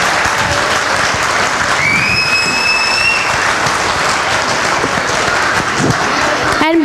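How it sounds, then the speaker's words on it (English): Loud, sustained applause from a large audience at a children's performance event, dense continuous clapping filling the space, with a faint tonal whistle briefly rising above it and a sharp sound at the very end. "a big round of applause for all 350 children who performed from"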